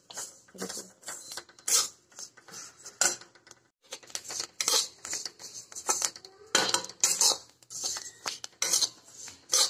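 Moong dal halwa made with leftover khoya being stirred constantly in a pan, heard as rapid metallic spoon scrapes and clinks against the pan in uneven bursts, close and fairly loud.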